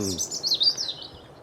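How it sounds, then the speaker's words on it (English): Birds sing in the rural English countryside, with bright, quick, warbling chirps up close. A brief voice is heard at the very start. "Sounds so pretty with all the birds."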